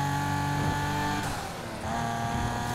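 A rear-wheel-drive Nissan 370Z engine in Need for Speed Heat drones steadily close by, its pitch shifting briefly mid-way as the car changes revs, then settling back into a strong, even hum.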